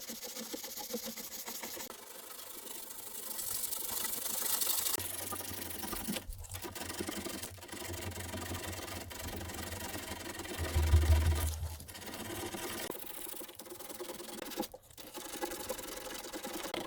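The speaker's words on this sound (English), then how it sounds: "So that's most of the sanding done." Body filler on a rusted BMW E36 rear panel is sanded down, a faint, continuous motorised whir with rubbing texture and a few brief dips.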